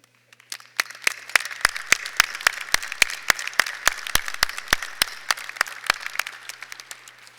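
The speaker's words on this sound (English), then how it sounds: "please stand and accept our applause for the service this afternoon" Applause at a university graduation ceremony: a scattered crowd clapping, starting sparse then building to a steady patter of many hands with sharp individual claps standing out, continuing for several seconds.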